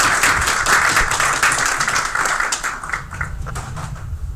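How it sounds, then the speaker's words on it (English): Sustained applause from a crowd at a university event, a dense wash of clapping that gradually thins and fades toward the end. "A big applause for all of you."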